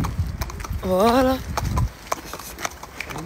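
Pony hooves clip-clopping during a pony ride, heard as scattered hollow knocks under excited voices and a rising, wavering voice in the middle.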